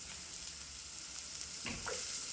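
Garlic and onions frying together in oil in a pan, a steady close broadband sizzle throughout with a brief stirring scrape near the end.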